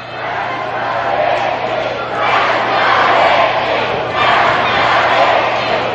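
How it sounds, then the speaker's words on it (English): A capacity crowd in a 1983 championship wrestling arena yells and roars, swelling in loud waves that rise and fall across the stretch, with announcer commentary faintly beneath. "Now the fans are yelling, Bradley's got a hickey?"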